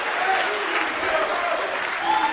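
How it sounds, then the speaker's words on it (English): Wrestling crowd at a West Coast Pro show applauding steadily, a continuous wash of clapping and crowd noise at even loudness, with voices mixed in. "The West Coast flock offering their applause and approval"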